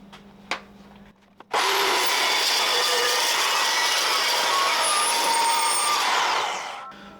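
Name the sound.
cold cut saw cutting metal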